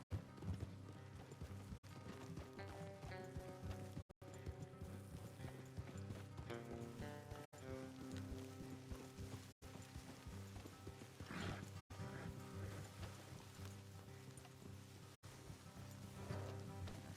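Several horses ride along a road in Red Dead Redemption 2, with steady clip-clop hoofbeats, an occasional neigh and soft rain in the background, loud and close.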